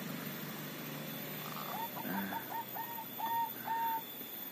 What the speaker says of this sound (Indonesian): Ini perkutut moka seperti ini.